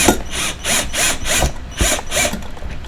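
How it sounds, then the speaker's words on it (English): A drill bores out a plastic headlight clip on a Nissan Cefiro A31, with close, loud, rhythmic grinding pulses repeating about every half second. "I'm just gonna drill it."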